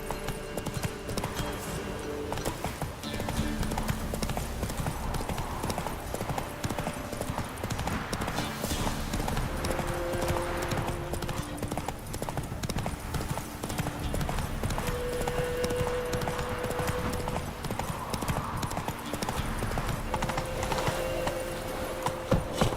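Hooves of a horse clip-clop steadily in The Witcher 3, keeping an even rhythm for the whole stretch over a low game background with a faint whinny.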